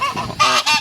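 Honking fowl calls at Zoobic Safari, loud and close, in three nasal bursts with the last two strongest, no talk over them.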